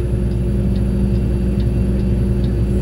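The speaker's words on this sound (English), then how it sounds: "See, I downshifted on that one. It wasn't the best downshift, but it did what it needed to do." Truck engine droning loud and steady just after a downshift on a mountain descent, a constant low rumble with faint regular ticking above it.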